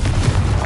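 Confringo explosive spell in Hogwarts Legacy, a short, loud, booming blast with heavy low rumble, close and alone.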